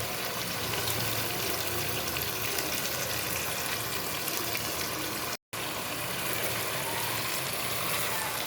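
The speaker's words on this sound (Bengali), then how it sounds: "এখন আমি এখানে পানি দিয়ে দেব।" Water poured into a cooking pot of chicken khichuri in a home kitchen, a steady, continuous broadband gush with a brief break near the end.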